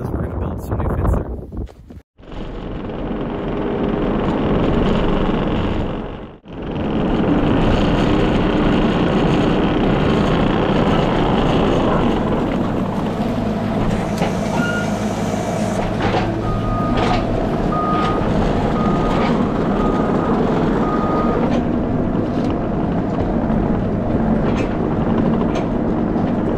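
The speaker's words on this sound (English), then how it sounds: "So I'm gonna drive the skid steer over here" A skid steer loader drives close by with a loud, sustained diesel engine roar and hydraulic whine. The sound briefly drops out twice, and faint beeping and clanks run under the engine noise.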